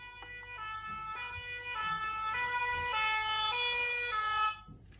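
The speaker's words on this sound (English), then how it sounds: "Is it a fire engine?" A fire engine siren wails in a repeating two-tone pattern, moderately close and steady, then cuts off near the end.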